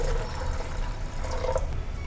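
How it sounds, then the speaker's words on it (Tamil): Water pours into a pot of soaked chana dal, a steady close splashing and gurgling fill that runs for about two seconds with no talk. "இதில் தண்ணி ஊற்றிக்கலாம்."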